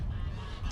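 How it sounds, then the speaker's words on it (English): Geese honk in the background on an African wildlife capture site, a short burst of nasal calls over low rumbling noise. "Excuse all the geese in the background."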